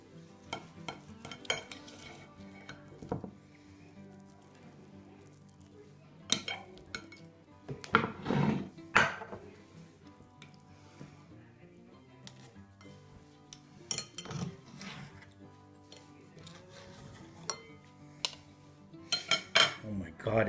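A knife and utensils cutting into a bacon-wrapped, taco-stuffed meatloaf, producing scattered clinks and scrapes against a dish with crispy crackles, fairly quiet and irregular over about twenty seconds.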